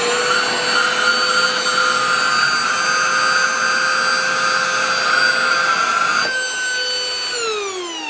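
A Greenote GCH01 cordless handheld vacuum cleaner whines steadily and loudly up close, then its motor pitch drops as it winds down near the end.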